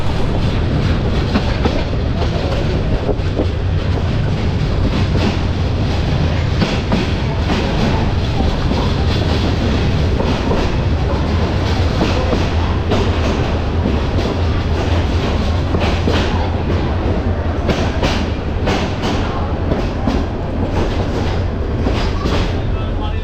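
The Jayantika Express, running from Dhaka to Sylhet near Brahmanbaria, gives off a loud, unbroken rumble with rhythmic wheel clatter from inside the carriage.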